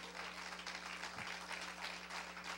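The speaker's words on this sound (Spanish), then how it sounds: "Thank you for the applause." Quiet applause from a church-style gathering in New York, a soft continuous patter of clapping heard from a distance over a low steady electrical hum.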